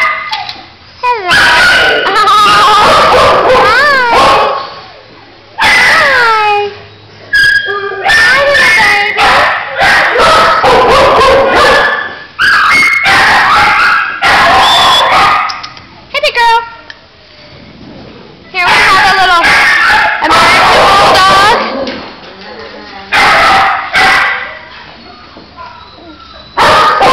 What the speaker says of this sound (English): These are adorable puppies.